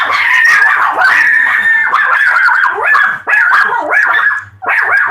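Several dogs just back from an evening walk bark and yip continuously, loud and close, with overlapping excited barks and whimpers and only brief pauses.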